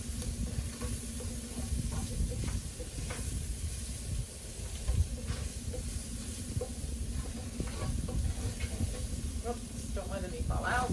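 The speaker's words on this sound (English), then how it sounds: "give all that a good stir," Potatoes with rosemary sizzle and hiss in a covered pan on an RV stove while being stirred, a steady close cooking hiss with soft scraping, with a voice speaking over it.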